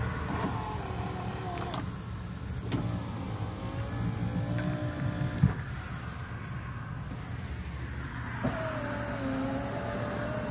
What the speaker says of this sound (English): those are power vent windows